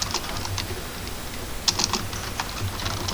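Code typed on a computer keyboard, with quick irregular clusters of close key clicks and a few louder taps, steady and alone without speech.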